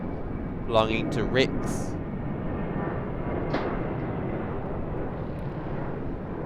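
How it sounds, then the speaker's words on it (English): A Rex Boeing 737 departing runway 34 right at Sydney Airport produces a steady, broad jet roar that carries through the whole stretch, with someone talking over it. "have a look at the 737 departing off of runway 34 right"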